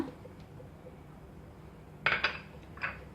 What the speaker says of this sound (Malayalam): അതിലേക്ക് ഞാൻ ഫ്രൂട്ട്സ് ഓരോന്നായിട്ട് ചേർത്ത് കൊടുക്കുകയാണ്. ആദ്യം സ്ട്രോബെറി, പിന്നെ ബനാന